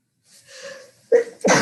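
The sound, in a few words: sneeze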